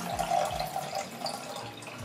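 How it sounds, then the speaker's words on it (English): Water being poured off a layer of settled sodium bismuthate powder in a lab vessel, a steady close trickling and splashing stream running alone for about two seconds. "When sodium bismuthate sank to the bottom, I remove most of the water."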